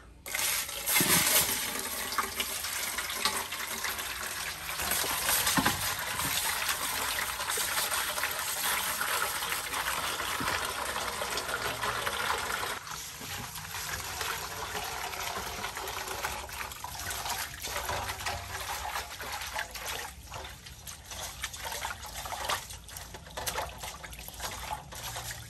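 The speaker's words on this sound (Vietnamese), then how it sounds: "bây giờ em bỏ muối vô, em xả nước em rửa rau" Tap water runs steadily and fairly loud for the whole stretch, splashing as salted raw vegetables are rinsed for a meal of crispy fried tilapia, with faint clinks and trickles over the constant gush.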